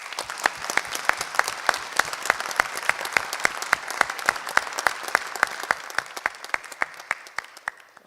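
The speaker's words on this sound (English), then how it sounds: "a big applause to Izumi and Jessica" Audience applause at the APNIC annual general meeting during the APRICOT 2019 conference: sustained crowd clapping with sharp, evenly spaced claps from someone close by, easing slightly toward the end.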